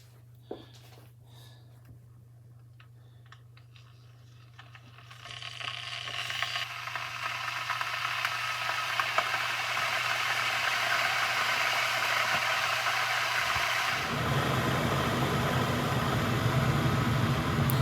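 A Ninja KT201UK electric kettle heats half a litre of water: a low steady hum, then a broad rushing hiss that swells after a few seconds and roars on loudly and continuously.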